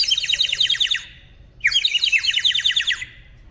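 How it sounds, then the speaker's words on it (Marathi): A small toy bird gives two bursts of rapid, high, sparrow-like chirping, close and clear, separated by a short pause. "ही गोष्ट घेतली एक ह्याचं चिमण्यांचा आवाज येतो."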